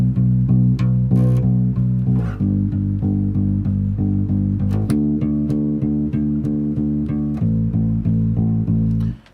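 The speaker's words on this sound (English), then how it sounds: "First version is just a straight 8-note pluck." Guitar plucking a steady stream of even eighth notes, the bass note shifting every couple of seconds, close and clear with no voices.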